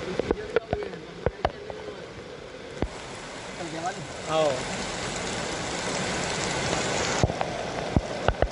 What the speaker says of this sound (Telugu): హోరు వాన కురుస్తున్న వేళ రోడ్డు మీదకి రావడంతో వాహనదారులు బెంబేలెత్తిపోయారు